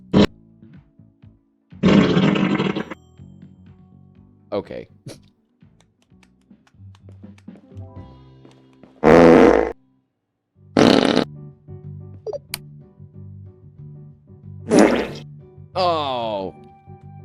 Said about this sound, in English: Fart?